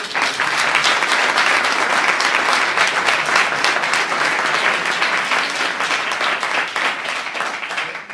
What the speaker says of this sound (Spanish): otra vez un aplauso para Arturo